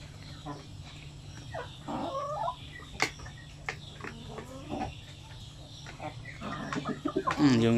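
Chickens cluck in short, scattered bursts, fairly close, with a steady low hum underneath and a louder run of clucks toward the end.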